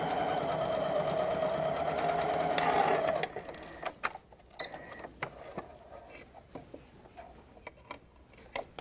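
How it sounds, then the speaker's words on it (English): Sewing machine running a straight stitch on a quilt, a close steady whirring hum for about three seconds, then stops, followed by scattered light clicks and handling taps. "Stitch on the line with just a straight stitch."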